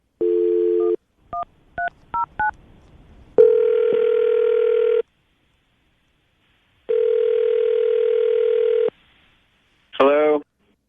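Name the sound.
telephone call ringing out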